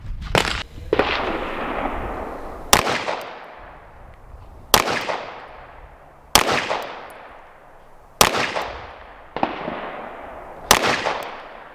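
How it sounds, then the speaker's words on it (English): Five or six sharp pistol shots from a Staccato 2011 handgun crack out at an outdoor shooting range, evenly spaced about two seconds apart, each loud report trailing off in a short echoing decay with no talking. "So he is going to put his 5 shots right here with his Staccato."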